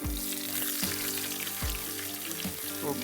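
Shallots and chilli fry in hot oil in a pan, giving a dense, continuous sizzle that stays close and loud throughout, with a few soft knocks of stirring; no one speaks.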